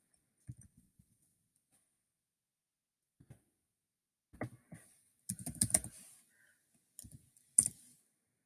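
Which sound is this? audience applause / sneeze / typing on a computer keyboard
typing on a computer keyboard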